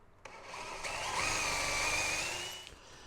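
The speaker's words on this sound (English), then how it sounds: "Right, so that's all the holes drilled." A small power drill bores holes in the dash of a 1/6 scale Armortek SdKfz 7 halftrack model, giving a steady close-up whine that holds for about two and a half seconds before stopping.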